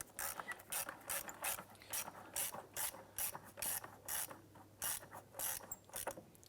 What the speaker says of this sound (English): We're going to use our 8mm socket with extension and 1/4-inch ratchet.